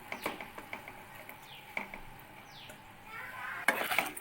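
Cooked rice being stirred by hand into a tamarind rice mixture in a cooking pot, faint scraping and light clinks of the spoon against the pot at an irregular rhythm, with a soft background hiss.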